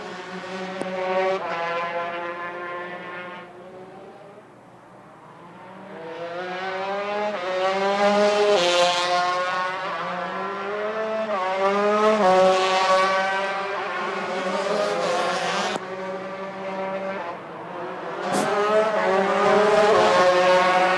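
Racing karts at the US Open Final in Las Vegas screaming past on a flying lap, a loud continuous high-revving engine whine with rising and falling pitch as several karts pass near, with no talk over it.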